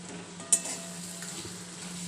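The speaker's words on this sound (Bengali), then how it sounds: "মাছের মাথাটা দিয়ে দিই আগে ওই মশলার সাথে সমস্ত কিছু একসাথে কষানো হবে" A fish head frying with spices for a vegetable chorchori, giving a steady close sizzle with one short stir clink near the start.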